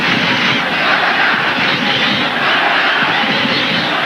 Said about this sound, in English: You hear the crowd chanting for Guatemala.